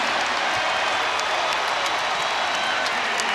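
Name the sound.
basketball crowd cheering on its feet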